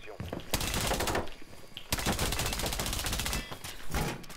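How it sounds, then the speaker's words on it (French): Rapid, loud bursts of gunfire aimed at a TV in Rainbow Six Siege, in two long sustained volleys separated by a short pause. "J'ai tiré sur la télé, ça l'a allumé."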